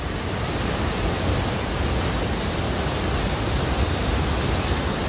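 Jaein Waterfall plunging into its deep pool in a basalt-columned gorge, a constant dense rushing roar of falling water, steady and unbroken.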